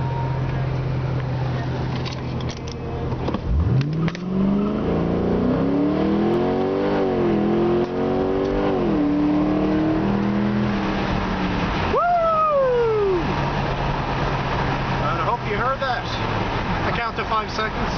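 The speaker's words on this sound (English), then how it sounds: "2006 Mustang, 0-60" A 2006 Ford Mustang GT accelerates hard from 0 to 60 mph, its engine note climbing through several rising pulls with gear changes between them, then a sharp final rev that falls away over lower background rumble.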